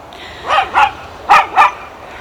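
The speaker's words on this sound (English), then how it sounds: "I'm going to pet my dog here real quick because she's barking at me" A dog lets out two pairs of short, close barks with a brief gap between the pairs, heard alone over faint outdoor background noise in a garden.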